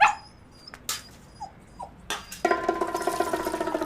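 A dog gives a few faint, high whimpers, followed by a steadier, brighter whining or mewling sound that continues under light background noise.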